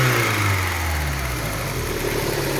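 A Peugeot 306 GTI convertible with a K&N-style air filter idles steadily close by, a smooth low engine hum with slight waver and no talk.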